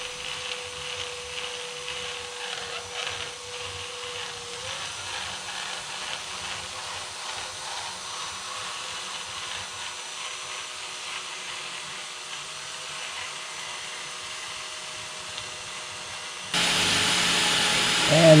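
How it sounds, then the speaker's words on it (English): A drill bit sander smooths an ash live-edge gift tray, giving a fairly quiet, steady whirring drone whose pitch shifts slightly, with a louder burst of other sound at the end. "And more sanding with a drill bit sander."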